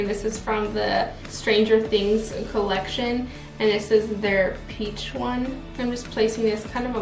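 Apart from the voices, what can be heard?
None of the usual background noises is heard.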